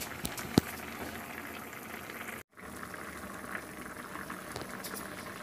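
Milkfish (bangus) simmers in a covered pot with green chilies, giving a steady soft bubbling and light patter throughout, with one brief cut to silence midway.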